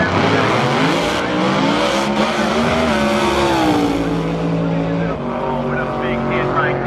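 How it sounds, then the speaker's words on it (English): At a drag strip, a race car slides with squealing tires amid roaring engine noise, while a voice talks over the scene throughout. "Car started sliding around. Boy, knocked the damn wall off."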